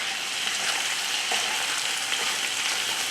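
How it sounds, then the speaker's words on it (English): Zucchini frying in a pan while being stirred, a dense steady sizzle with small scraping and rustling touches from the stirring, close and fairly loud, without speech. "Time for another stir."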